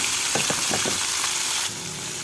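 Pork frying in a pan, a steady loud sizzle with a few stirring scrapes and knocks near the start, and the hiss drops slightly toward the end.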